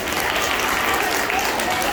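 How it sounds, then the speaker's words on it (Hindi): Applause for the winners at a Teacher's Day school program, a steady wash of clapping from an audience that holds evenly throughout. "तो जो आज के विनर्स हैं उनके लिए एक बार ताली बजाइए।"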